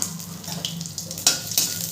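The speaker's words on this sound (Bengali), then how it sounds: "ওই তেলের মধ্যেই দিয়ে দেবো আমি ফোড়ন" Whole spices for tempering, including dried red chillies, black peppercorns, cumin seeds and cardamom, sizzle in hot oil in a pan, with a soft steady crackle and a couple of brief stirring clinks.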